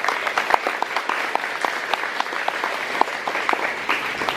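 Steady applause from a gathered audience, many hands clapping with sharp individual claps standing out, continuous and moderately loud.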